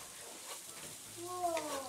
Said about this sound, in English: I'll just saute this some more